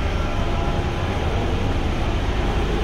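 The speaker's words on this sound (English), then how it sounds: "This is a central line train to White City." London Underground Central Line train running with a loud, steady rumbling roar of wheels and carriage, close and continuous throughout.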